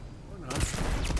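Turret gunfire in the video game Starfield, a sudden dense burst of rapid shots breaking in after a quiet moment, loud and close, with a voice talking underneath.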